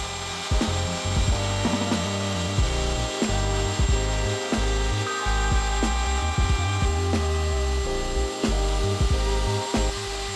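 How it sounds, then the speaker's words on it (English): A router bit cuts rabbets in plywood, guided along a scrap plywood template for cabinet sides, a loud continuous high motor whine with rough chattering cutting noise that stays steady throughout, no voices. "I use a scrap piece of plywood as a template to run a router bit along for the top rabbets"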